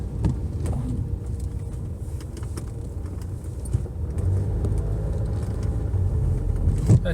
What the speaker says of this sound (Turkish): Konfor olarak şu an bozuk bir yoldan geçiyoruz